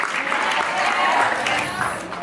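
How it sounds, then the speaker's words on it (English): A light smattering of audience applause at a comedy show, brief and moderately loud, with mingled voices underneath. "A smattering of applause for that."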